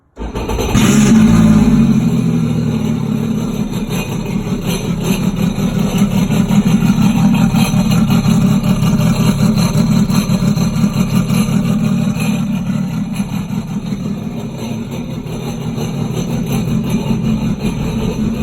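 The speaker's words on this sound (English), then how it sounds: "Here's a sound clip of the exhaust." A 2019 Sea-Doo Spark personal watercraft's engine exhaust rumbles loudly and steadily at close range, a deep throbbing drone that holds on without pause.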